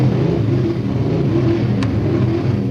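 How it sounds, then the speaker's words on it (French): A motorcycle engine revs loudly and steadily nearby, a continuous throaty roar holding at high intensity throughout with no speech over it. "On dirait bien la moto de Monsieur Buvolari."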